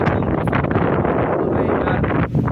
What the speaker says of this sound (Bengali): এই বছরে ফার্স্ট তুফান আসলো